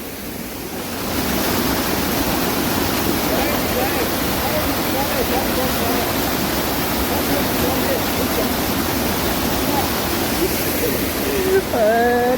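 Waterfall in Hunza valley, Pakistan, roars as a loud, constant rush of falling water close by, filling the whole span with dense broadband noise.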